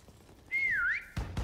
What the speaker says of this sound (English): I gotta listen for the whistle.